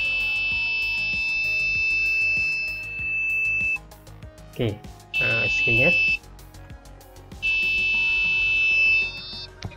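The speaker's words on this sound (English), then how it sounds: "Less than 10, it start to sound the alarm." An Arduino piezo buzzer sounds an alarm in long, loud, steady high tones that stop and restart, with someone speaking briefly in a gap between tones.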